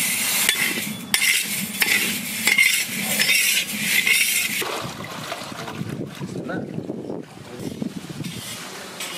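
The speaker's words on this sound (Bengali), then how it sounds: "ডালটাকে ভেজে নেব।" Mung dal lentils frying in a pan in a village kitchen, a utensil stirring and scraping against the metal with a steady crackle, busiest in the first half, while a voice speaks over the cooking.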